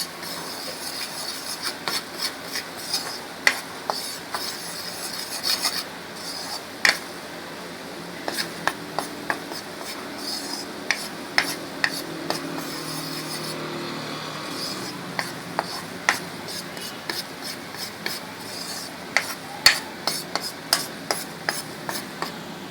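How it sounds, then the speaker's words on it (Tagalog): A spoon stirs mac and cheese with milk in a pot, producing scattered sharp clinks and scrapes against the metal at an irregular pace over a soft low background. "Tapos continue lang na stir natin."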